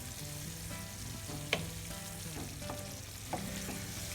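Liver and caramelized onions frying in a pan, a steady close sizzle with a couple of sharp pops and clicks of stirring, no voices.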